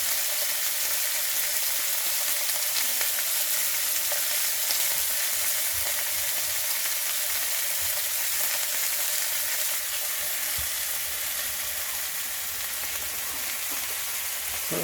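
Food sizzles and fries steadily in a pan over a spirit burner during a camp-stove meal, a continuous close-up crackle with faint stirring scrapes and no voices.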